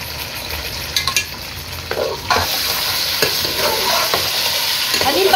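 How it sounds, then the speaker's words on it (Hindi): One kilo of mutton sizzles loudly in a pot of browned onions while being stirred for haleem, a steady close frying hiss with intermittent scraping stirs and no talking. "इसमें गोश्त ऐड कर दूँ, ये 1 किलो गोश्त है। अब मैं इसको भूनूंगी कि इसका पानी खुश्क हो जाए।"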